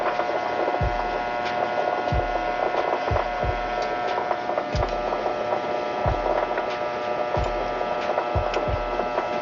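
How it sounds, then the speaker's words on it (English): Klystron power supply units give off a steady electrical hum with a sharp tonal whine above it, while faint irregular low knocks sound in the background. The hum is close and continuous, with no talking. "We engage certain Klystron power supply units."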